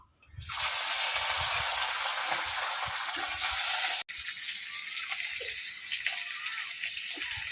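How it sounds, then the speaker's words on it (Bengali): Katla fish pieces frying in hot oil for a traditional Bengali fish curry give a loud, steady broadband sizzle that starts abruptly and runs continuously, with a brief cut midway, and no talk. "এবার আমি বাকি মাছগুলো সব ভাজে নেব।"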